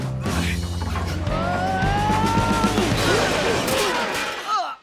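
Cartoon toy truck crashing into walls, a dense, loud, continuous clatter of smashing and rattling metal with squeaky sliding tones, ending in a short burst.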